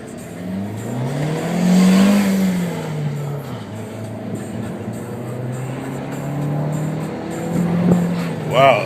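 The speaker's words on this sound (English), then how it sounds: "You can hear the little turbo working hard." A turbocharged 2013 Dodge Dart Rallye engine pulls under acceleration from inside the cabin, a rising and falling drone that swells twice with a faint turbo whir, while people talk over it.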